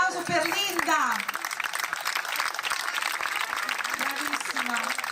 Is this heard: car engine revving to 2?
no